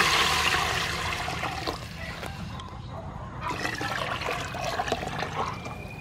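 Water poured into a pot of garlic fried in soybean oil for fish sour soup, a loud close rush and splash at first that settles into a steadier gurgling pour, with no talk.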